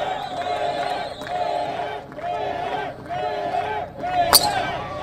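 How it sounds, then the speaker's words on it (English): A golf crowd at a long drive championship chants the player's nickname "Critter" in repeated rhythmic two-syllable bursts, about five chants in a row, loud and near, with a sharp crack near the end. "crowd chanting critter"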